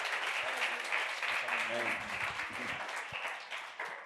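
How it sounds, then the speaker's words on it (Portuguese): A church congregation gives a round of applause, a dense patter of clapping lasting a few seconds that tapers off with some voices mixed in. "Você pode honrar esse homem de Deus com a salva de palmas."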